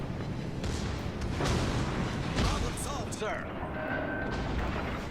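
Heavy booming salvos from the FNS Dunkerque battleship's main guns in a naval video game, deep blasts amid a rumbling battle backdrop, with someone talking over them.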